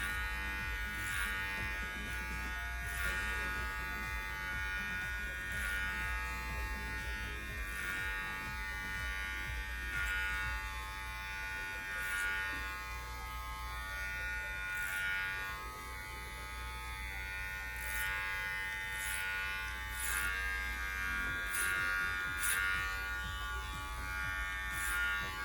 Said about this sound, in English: I'll just go back through, clip over comb horizontally, and just elevate that hairline out